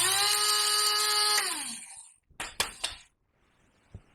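A blender whirs loudly for about a second and a half, pulsing dried tomatoes into powder, then winds down, followed by a few sharp rattling knocks and a faint tap.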